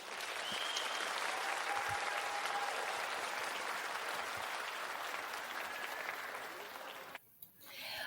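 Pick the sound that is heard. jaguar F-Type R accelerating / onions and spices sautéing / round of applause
round of applause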